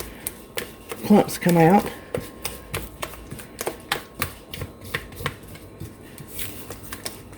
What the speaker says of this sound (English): I'm going to keep stirring until the flour